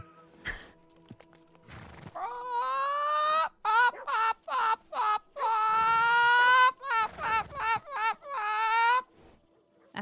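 A person imitates a chicken, a string of loud, close, nasal squawking clucks in quick bursts, with breathy noises before it starts.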